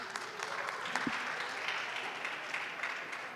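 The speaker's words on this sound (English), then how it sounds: "please give her a round of applause" An audience applauds Congresswoman Jayapal at an event honoring prominent Sikhs in the USA, a steady, fairly soft wash of clapping that holds evenly throughout.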